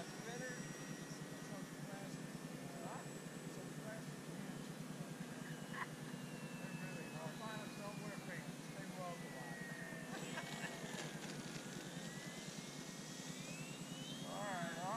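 An FMS Sbach 342 RC airplane flies a go-around in a crowded sky, its thin electric motor whine rising and falling in pitch as it passes, fairly faint against steady background noise, with people talking over it.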